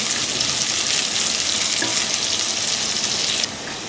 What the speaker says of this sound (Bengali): পেঁয়াজটা আমার লাল লাল করে ভাজা হয়ে গেছে।